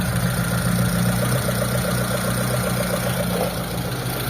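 A Mitsubishi Lancer GLXi engine idles steadily after a hydro vac replacement, a smooth continuous hum with a faint regular pulse, close and alone without talk.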